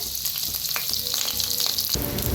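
Garlic and ginger fry in hot oil in a wok with a dense, steady sizzle, close and loud throughout, with a brief jump in intensity near the end.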